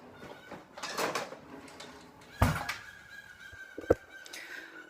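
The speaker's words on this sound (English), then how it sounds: "My bird is very vocal in the morning, so Marcus, we're not talking to you." A pet bird in a home kitchen calls out with a few honking squawks and a sustained tonal cry, mixed with clattering kitchen noises and a sharp knock.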